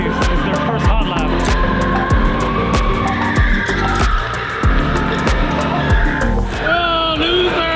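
Race car on its first hot lap at a championship event, engine roaring loudly and continuously with tire squeal, passing close, while people talk over it.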